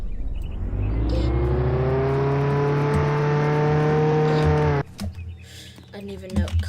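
A loud, sustained car engine rev in the Roblox game Jailbreak, a steady harmonic drone that cuts off abruptly near the end, followed by brief game clatter and voice.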